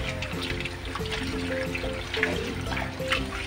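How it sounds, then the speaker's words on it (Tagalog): Jute leaves (saluyot) washed in water: continuous splashing and trickling with swishing, close and steady, under a faint background tone. "Yan, syempre huhugasan po siya ng mabuti."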